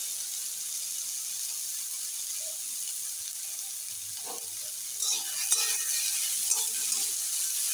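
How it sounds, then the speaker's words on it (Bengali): Chopped onion sizzles in a frying pan with a steady hiss, broken by a few clinks and scrapes of stirring toward the end, close and alone. "এবার পেঁয়াজ কুচি দিয়ে দেব।"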